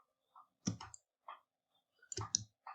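Sharp mouse clicks in a steady series, each followed by a brief keypress of the shift key, the clicking close and fairly quiet with short pauses between pairs.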